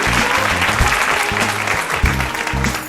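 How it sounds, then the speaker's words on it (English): A studio audience applauds loudly for Barack Obama, dense clapping with a few cheers, while music with a bass beat plays beneath throughout. "Give another round of applause for Barack"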